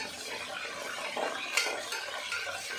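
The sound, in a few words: curry leaves being stirred into hot oil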